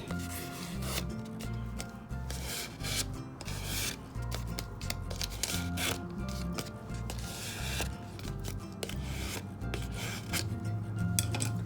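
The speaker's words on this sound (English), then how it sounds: "I'm going to bring in my bone folder and just give this a good curve." A bone folder is drawn along a paper strip to curve it into a hat band for a leprechaun hat treat box, giving steady close scraping and rubbing strokes throughout.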